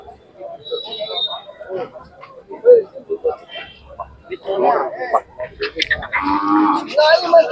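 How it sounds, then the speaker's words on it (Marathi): Large bulls at a farm in Satara district lowing amid nearby talk, with deep, drawn-out calls rising toward the end over people speaking in Marathi. "मोठ्या मापाची बैल आहेत पाहू शकता."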